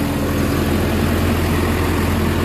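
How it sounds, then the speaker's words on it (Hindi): A new 65 HP Indo Farm 3065 DI tractor pulling an 11-tine cultivator in high gear, its engine a steady, loud low-pitched rumbling drone throughout. "पहले हाई के अंदर ट्रैक्टर चल रहा है भाई।"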